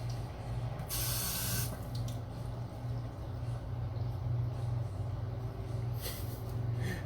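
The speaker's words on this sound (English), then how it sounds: "I'm just gonna rinse this off" Tap water runs steadily into a sink while something is rinsed, a constant close hiss with brief brighter splashes as the stream hits the item.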